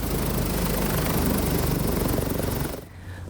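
Police helicopter in flight over an Independence Day ceremony in Nusantara, Indonesia, a loud continuous rotor thrum with steady chopping pulses that drops away abruptly near the end.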